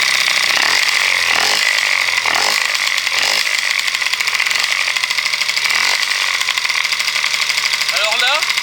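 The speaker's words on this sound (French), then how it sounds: "Et je vais démarrer la mob." A moped engine fires up and settles into a loud, steady idle with a rough buzzing tone, a few uneven bursts early on as it catches, then running continuously to the end.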